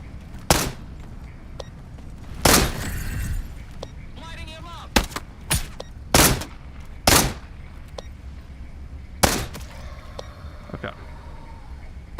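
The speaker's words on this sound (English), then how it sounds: "Wasn't counting, so that was 10 shots" Gunfire from the VR video game Into the Radius 2, with around ten sharp, loud shots fired at irregular intervals. Faint electronic chirps and a low ambient rumble sit between them.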